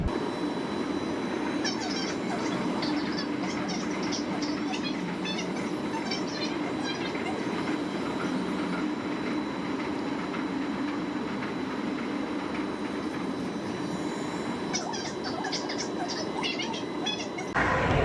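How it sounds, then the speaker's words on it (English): Steady interior rumble of a Hanoi Metro Line 2 train riding toward Cat Linh station, a continuous mid-low drone with faint rattles and brief high squeals near the start and end. "so I'm back on the metro now"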